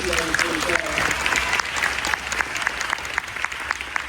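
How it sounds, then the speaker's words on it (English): Graduation audience for an eighth grade class applauding steadily, a dense wash of many hands clapping with sharp individual claps poking through, sustained and fairly loud throughout. "Can we just clap our hands one more time for the class of 2025?"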